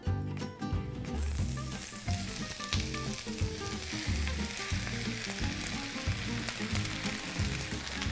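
Onions dropped into hot oil in a pot crackle and sizzle loudly, a bright, dense frying hiss that flares up at once and keeps bubbling steadily close by, with occasional stirring scrapes.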